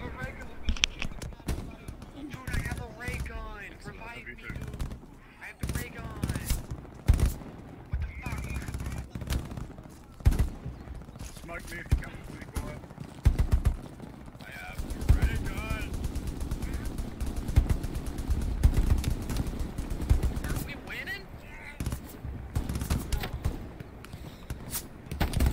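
Rapid bursts of Hell Let Loose gunfire crackle through a busy mix, with overlapping voices talking throughout.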